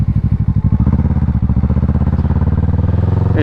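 A motorcycle engine chugs at low revs in a rapid pulsing beat during a second gear wheelie attempt, loud and close, building toward a rev at the end.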